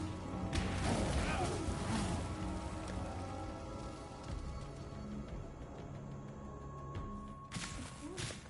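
Rain of Arrows skill in Path of Exile on PS5: a dense, steady patter of many arrow impacts like rain on a surface, with sharp hits and mechanical clatter throughout, fairly loud and continuous, fading slightly toward the end.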